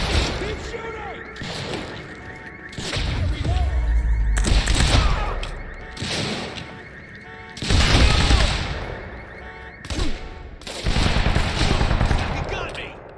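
Bursts of gunfire, including rapid machine-gun volleys, in a firefight in the video game Quantum Break, loud and close in repeated clusters separated by brief pauses, with a player's voice talking over some of the shooting.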